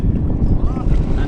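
Strong wind out on the water, a brief loud rumbling buffet of gusts hitting the microphone, with a voice speaking beneath it.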